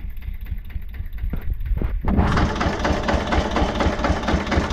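A tractor engine idles steadily and loud up close, its low chugging running throughout after a brief quieter, scrappier stretch at the start.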